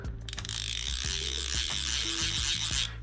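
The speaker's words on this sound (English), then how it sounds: "Take a listen to the drag clicker." The drag clicker of a Seasir Zero VX saltwater baitcasting reel ratchets rapidly as line pulls out, a dense run of close, crisp mechanical clicks over a steady buzzing whir.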